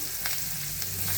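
Finely chopped onion frying in hot tempering oil for Mumbai-style ragda, a steady close sizzle with a couple of faint spoon scrapes, no voices.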